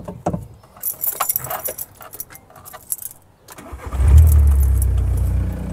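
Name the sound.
VW T3 bus engine being started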